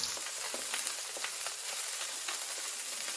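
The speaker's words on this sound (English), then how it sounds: "This is boiling a little too much, so I'm going to turn the sauce down." Maple bourbon sauce boils hard in a pan, giving a steady hiss of fine bubbling and popping, close up and continuous with no talking.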